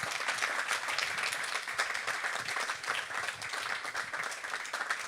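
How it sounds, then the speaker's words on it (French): Steady applause from an audience fills the whole stretch, dense clapping with no pauses and no talking over it. "applaudissez-le."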